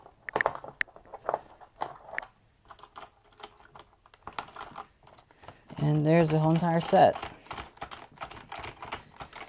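Keycaps click and snap off and back onto a Cherry MX mechanical keyboard in scattered sharp plastic taps, close and crisp, with someone speaking partway through.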